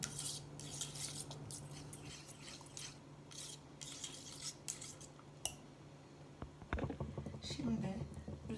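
A spoon stirs chocolate pudding in a pot on the stove, giving faint intermittent scraping and clinking against the pot sides, with a louder clatter of metal near the end.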